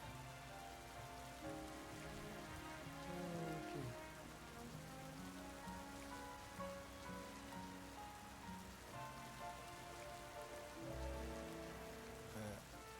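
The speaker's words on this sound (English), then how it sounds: "Oh, it's raining now." Steady rain falling in the Pokemon Legends ZA video game, a soft constant patter of drops layered under quiet game music, faint throughout, with one brief spoken word.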